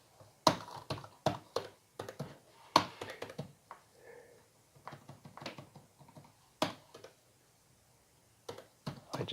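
Someone types on a computer keyboard, a close, uneven patter of clicks in short clusters with brief gaps between them.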